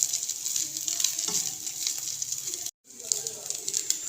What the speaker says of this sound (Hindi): और साथ में मैं डाल दूँगी ये चिकन। इसको हल्का सा फ्राई करेंगे